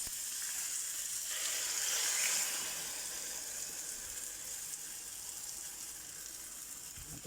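Beaten egg mixed with bitter gourd poured into a hot pan, giving a steady, fairly quiet sizzling hiss that swells briefly near the start and then settles, close by and with no talking.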